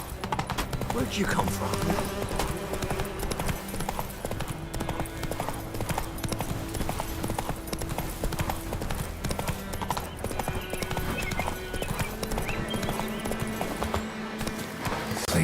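Geralt's horse Roach gallops in a steady clip-clop in The Witcher 3, hooves pounding continuously under game music and ambient sound, with a brief spoken line and an occasional whinny.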